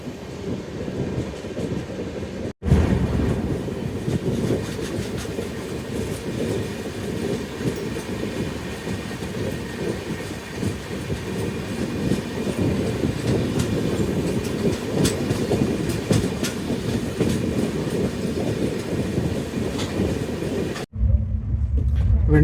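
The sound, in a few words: Ala Hazrat Express passenger train running on rails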